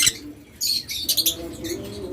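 Adult breeding pet birds, such as lovebirds, cockatiels or budgerigars, give several short, sharp, high chirps and squawks in quick bursts, close by over a low background hum.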